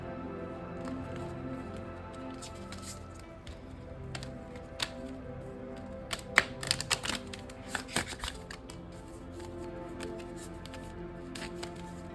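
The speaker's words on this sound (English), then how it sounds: "let's pull another card to kind of get more clarity on that aspect of it" Tarot cards shuffle and slide against each other during a reading, a soft papery rustle with several crisp flicks and snaps clustered in the middle, quiet and close with no talk.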